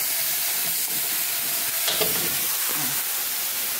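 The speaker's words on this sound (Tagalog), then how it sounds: "Halo-haloin lang po natin siya. Hanggang sa mag-brown po at lumabas yung sarili niyang mantika." Pork humba stirred in a pan as it browns and renders its own fat, a steady close sizzle with a few scraping stirs over about four seconds.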